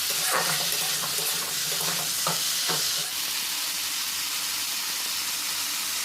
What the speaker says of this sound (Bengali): আদা রসুন দিয়ে 2-3 মিনিট ভালোভাবে নাড়াচাড়া করে ভেজে নিতে হবে।